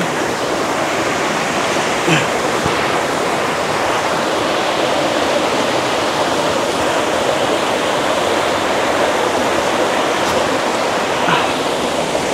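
Makeregen waterfall pours in a steady, loud roar of rushing water that holds constant and fills the whole stretch, with no break or change.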